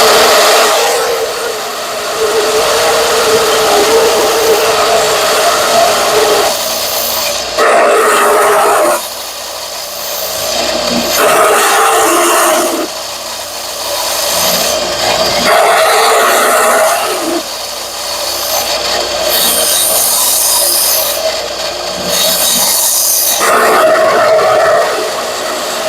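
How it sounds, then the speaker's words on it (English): An electric sander grinds along the edges of wooden pieces, a loud, harsh, continuous whine that swells and drops as each edge is worked, with brief lulls between passes and no talk. "so I just turn the sander on."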